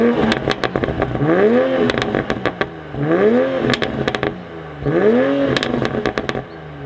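A Toyota Supra mk5 with a new exhaust and intake, valves open, revs hard three times in close succession, each rise and fall followed by crackling pops and bangs, loud and close with no talking.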